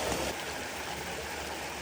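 Spring water pours from lion-mouth fountain spouts in McLeod Ganj, Dharamsala, a steady rushing splash at moderate level with no speech.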